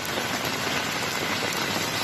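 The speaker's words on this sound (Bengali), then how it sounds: "শনিবার সকাল থেকেই কালবৈশাখী ঝড়ের সঙ্গে মুষলধারে বৃষ্টি রাজধানী জুড়ে।" Heavy downpour during a nor'wester storm over a capital city in the morning, a loud, steady, dense hiss of rain that holds without a break throughout.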